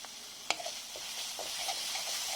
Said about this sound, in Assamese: মছলাখিনি ভজা ভজা হৈ গৈছে। এয়া তেল ওলাই আহিছে।